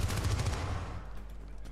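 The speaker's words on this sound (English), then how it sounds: "I accidentally shot someone that shouldn't be shot" Gunfire in the 2012 shooter Syndicate, a rapid close burst of automatic shots that fades into a dull rumbling tail, with no talk.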